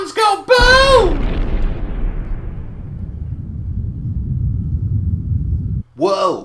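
A heavy explosion booms right after a short spoken line, then a long low rumble rolls on for several seconds and dies away before the voice returns.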